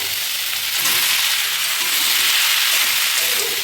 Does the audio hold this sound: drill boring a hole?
no